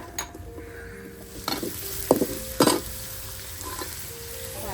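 Garden-grown capsicum, carrot, cabbage and beans stir-fried for fried rice, giving a steady sizzle punctuated by a few sharp spatula scrapes and knocks against the pan.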